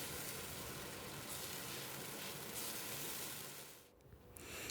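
A whole squirrel sears in a hot frying pan, giving a steady, quiet sizzle that runs without talk and drops away briefly near the end.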